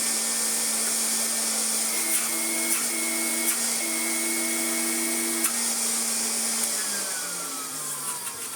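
A Siemens Super VS 31-45 vacuum cleaner runs after a motor repair, giving a steady loud whine and rushing airflow with a constant tone that drops in pitch as it winds down near the end.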